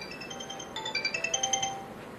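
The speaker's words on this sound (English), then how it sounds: "Phone's ringing." A phone ringing indoors, a brief melodic ringtone of quick bright electronic notes rising in a short run, fairly faint and heard alone.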